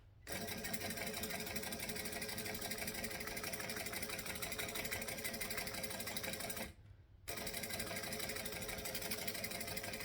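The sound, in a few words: sewing machine stitching a handbag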